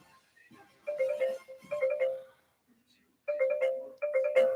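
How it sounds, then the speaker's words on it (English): Telephone ringing during a call, its electronic ringtone repeating in distinct bursts separated by short silences, clear and fairly close, with someone talking between the rings. "There's a phone call."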